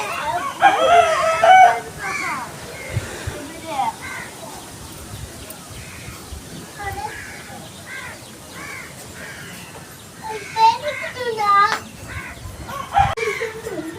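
Native country chickens clucking and calling nearby on a rooftop terrace, with a rooster crowing several times over a quiet outdoor background.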